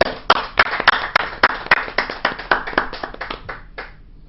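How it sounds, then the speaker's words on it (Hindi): Sparse hand clapping from a small audience at a Hindi poetry and song gathering, roughly a dozen distinct, fairly close claps in an uneven rhythm that thins out toward the end, with no voices. "आप जोरदार तालियां बजाइए"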